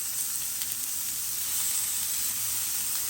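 Tuna sears in a hot pan with a steady, close, even sizzle and hiss that holds without pause or talk.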